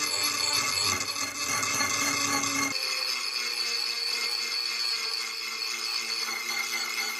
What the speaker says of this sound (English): So I've got just the Dremel. I'm going to try and hit that edge and get it cleaned up a bit.